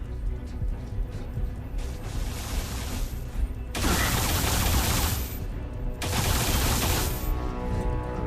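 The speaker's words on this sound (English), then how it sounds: "alien rifle." Alien rifle firing in the video game Alien Rage, loud sustained automatic bursts in two long stretches with steady rattling in between, heavy and continuous with no reload pauses.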